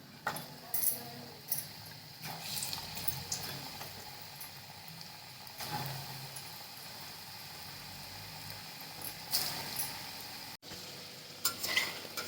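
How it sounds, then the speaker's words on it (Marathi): Pieces of wheat dough for churma laddu fry in hot oil, giving a steady sizzle with occasional stirring and clinks of a utensil throughout. "लाल लालसर भाजून आता दुसरं टाकून घेते परत याच्यात"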